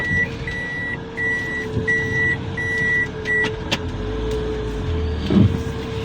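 Reversing beeps from a pickup truck backing up, about six evenly spaced high electronic tones over a steady engine idle, close by, ending with a brief thump and rattle.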